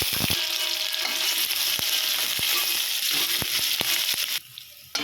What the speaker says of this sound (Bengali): এবার থেতো করা আদা চেরা কাঁচা লঙ্কা ও হিং দিয়েও ভেজে নিতে হবে